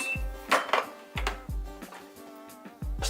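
Freshly steamed rice scooped from a pot: a series of clinks and scrapes from a utensil against the metal pot, close and irregular, with a few short knocks.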